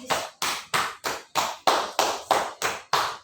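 Ten sharp, evenly spaced hand claps ring out alone during a yoga exercise session, each loud slap followed by a quick decay in a steady counting rhythm.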